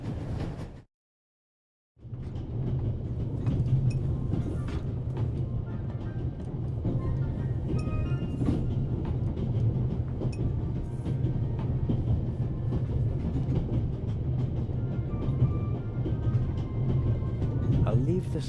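A train runs at full speed in the video game The Raven Remastered, a steady low rumble and rattle that continues after a brief silent gap at the start.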